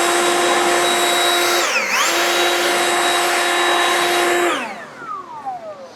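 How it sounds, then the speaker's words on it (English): A Milwaukee cordless blower runs at a loud, steady high whine, dips briefly once and then spins down near the end. "Milwaukee blower."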